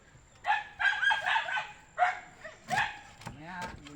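A dog barks several times at close range in a short run of yelps and barks, mixed with people talking.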